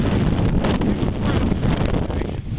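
Strong gusting wind buffets the microphone on the 6,488-foot summit of Mount Washington in New Hampshire, a loud, low, rumbling roar that surges and dips with no speech.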